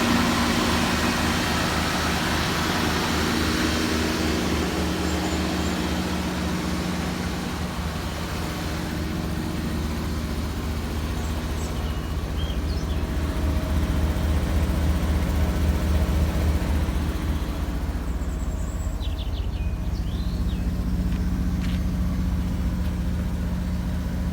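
A Rolls-Royce car from about fifty years ago, with twin exhaust pipes, runs after being restarted, its engine holding a steady, continuous rumbling idle throughout with no talking over it.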